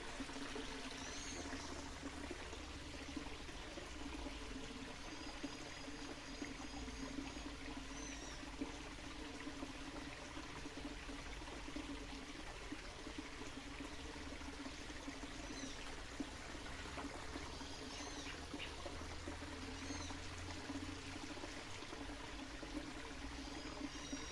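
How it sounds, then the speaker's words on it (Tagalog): A forest stream trickles and pours steadily and faintly for the whole stretch, a soft continuous wash of flowing water with no voices over it. "At tayo ay makakita ng ganyan na may mga lagaslas ng tubig."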